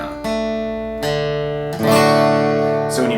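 A guitar chord is picked out note by note, each string ringing clearly and sustaining before the next is plucked, with a final note struck brighter near the end.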